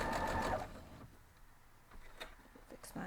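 Sewing machine stitching a quilt block seam, a dense whirring run for the first half second, then slower, lighter stitch ticks and a few soft handling sounds at close range.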